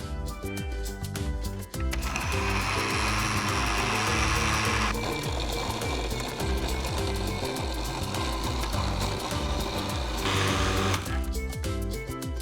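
A countertop blender whirs loudly and steadily, processing a fruit smoothie for over ten seconds, its motor pitch shifting as the contents churn.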